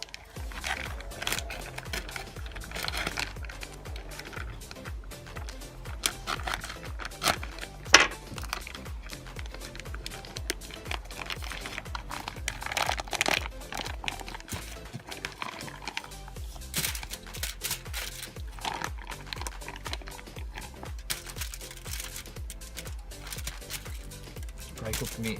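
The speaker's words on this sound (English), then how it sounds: "I'm going to cook them up and put them into some foil basically." Barbecue burnt ends are wrapped in foil, giving faint, irregular crinkling and rustling with scattered sharp crackles throughout.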